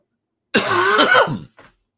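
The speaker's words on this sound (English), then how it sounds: "Hold on, I'm going to cough." A single harsh cough, close and loud, followed by a brief faint catch of breath.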